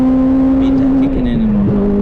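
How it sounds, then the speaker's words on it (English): A Honda Civic EP3 Type R on track at Castle Combe sends out a loud, steady engine drone that shifts pitch briefly as VTEC engages, with a voice partly over it. "VTEC kicking in and whatnot."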